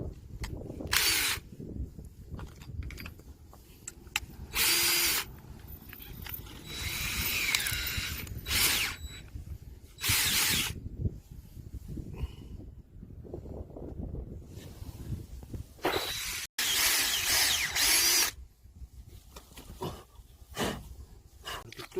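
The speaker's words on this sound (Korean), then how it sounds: "이 코아로 코아로 구멍을 뚫습니다" A core drill bit bores a hole in fittings for a garlic field sprinkler hose line, heard as several loud bursts of power-tool whirring and ratcheting with pauses between, outdoors under wind noise.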